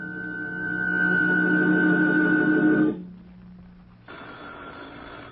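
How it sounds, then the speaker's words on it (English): A loud, steady telephone ring sounds close by for a few seconds, stops, then a fainter hum follows. "Oh, will that phone ever stop ringing so we can get on with this?"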